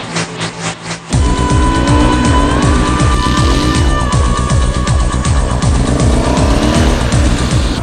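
A very powerful motorcycle revs hard and repeatedly while being ridden and drifted, its engine note rising and falling in rapid, loud, close bursts after a short quieter start.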